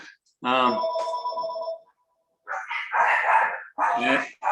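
A telephone rings once more indoors, and then a dog barks several times close by in short, loud bursts.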